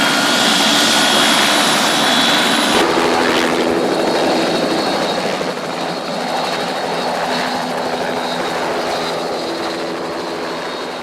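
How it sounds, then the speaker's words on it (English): A news helicopter covering a fire: rotor and engine roar loudly and steadily throughout, a broad continuous drone with a shift in tone partway through. "the newspaper dispatches a helicopter to pick up the film."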